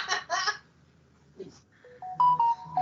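A telephone ringtone plays a few clear stepped electronic tones near the end, after a short burst of voices or laughter and a quiet stretch.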